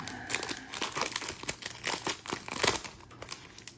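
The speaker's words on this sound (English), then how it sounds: "Let's get ripping these packs open." Foil packs of 2024 Optic trading cards are ripped open up close, producing a steady run of crinkling and tearing rustles in short overlapping bursts.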